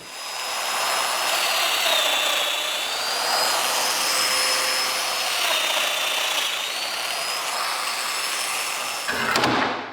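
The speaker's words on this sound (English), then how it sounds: "I'm gonna cut in some dominoes to help with alignment." Domino joiner cutting mortises into wood boards for a display cabinet: a steady, high-pitched motor whine with a rasping cut that bends in pitch as it plunges, running nearly ten seconds before stopping abruptly.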